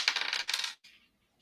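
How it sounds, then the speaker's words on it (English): Dice are rolled across a hard surface during a card reading, giving a quick burst of clattering rattles followed by a brief final tumble before settling, close and fairly quiet. "Let me roll my dice."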